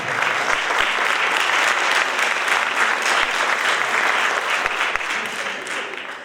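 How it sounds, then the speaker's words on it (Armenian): An audience at an international choreography festival claps in a dense, sustained round of applause for the organizers, loud and even throughout. "Ջերմ ծափահարություններ Ազդարար Art Production-ի հիմնադիրներ Ռոբերտ Մկրտչյան եւ Զավեն Խաչատրյան"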